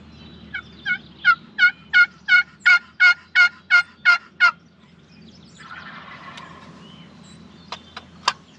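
A run of about ten evenly spaced, loud gobbling calls from a wild turkey nearby in the woods, followed by a rustling stretch and a few sharp, brief chirps.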